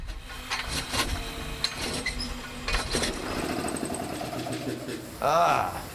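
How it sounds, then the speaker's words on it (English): A ship's engines running in the noisy engine room, a steady mechanical rumble with rattling and clatter throughout, and a louder tonal burst near the end. "The engine room is very noisy, of course, when the ship's traveling at full speed"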